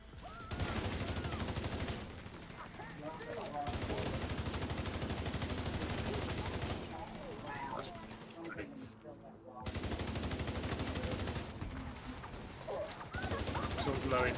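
Sustained automatic gunfire from the video game The Division 2, loud and nearly continuous in long bursts with short gaps, and a voice talks over parts of it.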